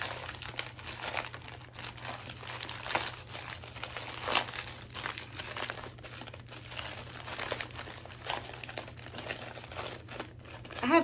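Mail packages torn open by hand: a continuous run of close crinkling and tearing of packaging, with scattered louder rips over a faint steady low hum and no talk.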